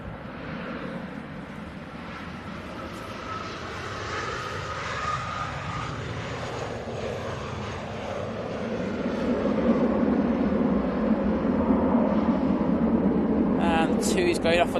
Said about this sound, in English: the Sun Express is getting hit heavily. Tipping the wings, it's up and down, but it's into the flare now